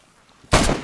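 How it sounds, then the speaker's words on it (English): A single loud gunshot in the zombie survival game DayZ bursts out suddenly after near silence and trails off in a short, noisy tail. "Shooting a zombie."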